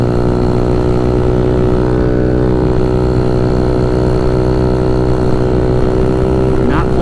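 A 171cc GY6-engined Honda Ruckus scooter accelerates at part throttle, its steady droning engine hum loud and close, with wind noise throughout.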